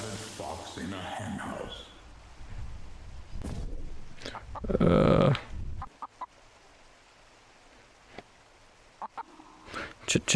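A flock of chickens in a VR video game clucks and squawks in scattered bursts, with one loud burst in the middle, while a person talks over the first part.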